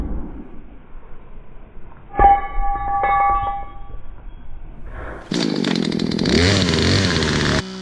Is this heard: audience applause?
no